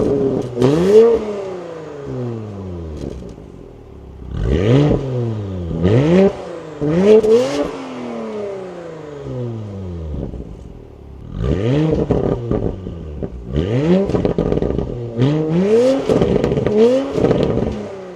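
A Porsche Macan GTS engine revs and accelerates while driving, its pitch climbing in repeated sweeps as the gears change, loud and close with brief easing between pulls, no voices.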